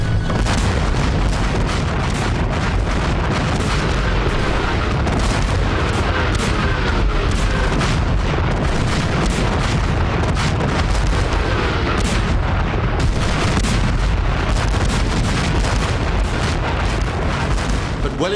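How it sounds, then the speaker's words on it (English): Heavy bombardment from a battery of about 246 French cannon firing together, a dense, continuous roar of overlapping booms and rumbling blasts, loud and sustained without pause. "246 French cannon started the bombardment."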